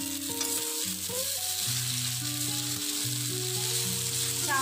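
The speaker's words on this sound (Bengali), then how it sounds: "চাউমিনটাকে সবজির সাথে খুব ভালো করে মিশিয়ে নিয়েছি" Chow mein noodles tossed with cabbage in a street-food-style stir-fry give a continuous close sizzle, with layered steady tones from nearby stall noise running underneath and no talking.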